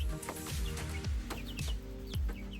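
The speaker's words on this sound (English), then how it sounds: "Got the chickens in there." Several chickens cluck and murmur close by in a suburban backyard coop, steady, overlapping chatter with short rising calls, no talking.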